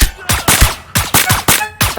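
Gunfire in the Deceive Inc. video game, six loud sharp shots fired at a steady, deliberate pace over about two seconds, each with a short echoing tail.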